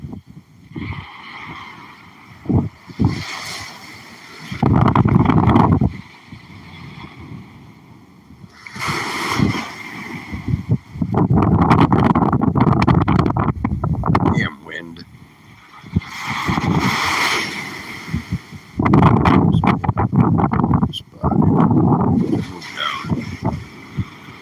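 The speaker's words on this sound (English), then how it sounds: "these waves. They're breaking right there at the edge of the shore" Ocean waves breaking at the edge of a windy beach come in repeated loud surging rushes, heavily buffeted by wind noise on the microphone, with a person talking between the surges.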